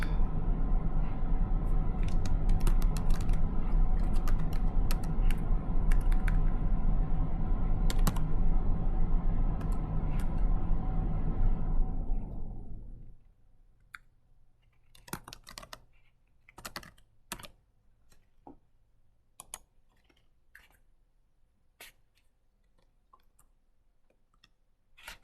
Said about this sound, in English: we're just going to type it in using the keyboard